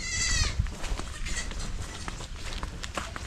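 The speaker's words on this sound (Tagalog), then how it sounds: "May bagong panganak na kambing." A newborn goat on a farm gives one short, high bleat at the start, followed by rustling and shuffling movement nearby.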